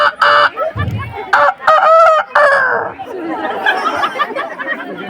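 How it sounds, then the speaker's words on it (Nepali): Chickens cluck and squawk close by, with a rooster crowing in loud, sharp bursts that overlap with people chattering throughout. "कुखुरा नि कराएछ यार"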